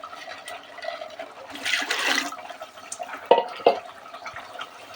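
Water splashes into a pot of tehari rice for a second or so. Then a spoon stirs the pot, with a couple of sharp knocks against the metal, and the kitchen goes quiet again.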